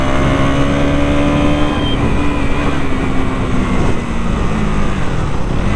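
A KTM Duke 200 motorcycle engine drones and revs while climbing uphill, its pitch holding high and then easing and shifting, loud and close throughout.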